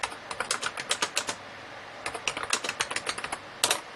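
Keys clacking on a Brother BP-30 typewriter plotter, a close, rapid run of crisp mechanical key strikes, pausing briefly then resuming in quick bursts.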